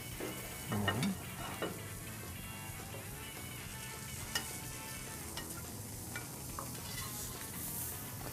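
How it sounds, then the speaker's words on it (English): Fish sears in a piping hot skillet with a steady, close sizzle and hiss, broken by a few soft clinks and scrapes of utensils; no talking. "with that piping hot skillet, it should sear all those great flavors and juices right on into the fish"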